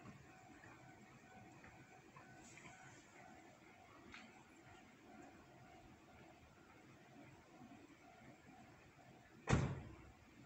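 Late at night outside a building, a car door is shut in one sharp, loud slam near the end, following a long stretch of quiet hiss and faint distant noise.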